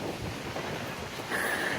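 Wind and surf at Alibag beach at sunset, a steady broadband rush with low rolling wash, wind gusting a little stronger near the end; no voices.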